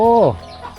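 A single short cluck from a chicken, close and clear, followed by quiet background.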